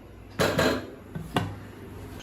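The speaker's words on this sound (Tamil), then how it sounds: "இப்போ நம்ம பிரியாணி பாத்திரத்தை அதில் வச்சிடலாம்." A metal biryani pot is set down onto a hot dosa griddle on the stove, a couple of clanking metallic knocks up close, then a lighter clink.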